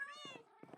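Cats meowing in Minecraft, two close, clear meows in quick succession with a rising cry starting at the end, fairly quiet and with no talk over them.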